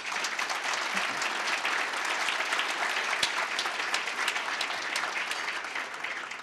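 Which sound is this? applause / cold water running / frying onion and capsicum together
applause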